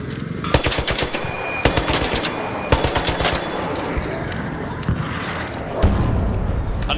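Bursts of rapid video game gunfire, several loud rattling volleys fired in quick succession with short gaps between, followed by a deeper thud and a low rumbling tail.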